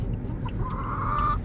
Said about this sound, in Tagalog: Why don't these chickens shut up?